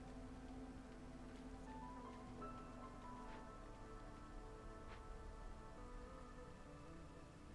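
Drizzling rain from the game Against the Storm falls as a steady, faint patter, even and unbroken, with no talk over it.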